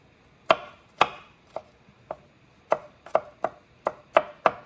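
Fresh garden garlic is chopped on a cutting board with about a dozen crisp, close knife strikes at an uneven but steady pace, alone and with no talk.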